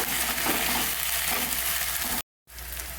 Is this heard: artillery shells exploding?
no